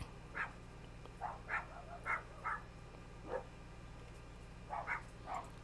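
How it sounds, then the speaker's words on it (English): Dogs barking outside, a scattered run of short sharp barks and yips in irregular clusters, faint and somewhat distant over a low steady hum, with no talking. "I hear my dogs barking like hell"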